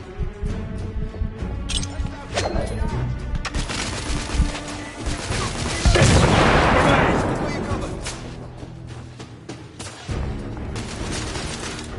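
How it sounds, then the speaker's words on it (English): Heavy gunfire in The Order 1886 on hard difficulty: a dense fusillade of shots and booms, with a big blast near the middle, under shouted voices. "I'm taking suppressing fire!"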